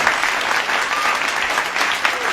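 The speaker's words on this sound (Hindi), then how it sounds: "ताली हो जाए साहब एक बार मुझे।" An audience at a live Hindi comic performance claps steadily and loudly, a dense, continuous wash of applause from start to finish.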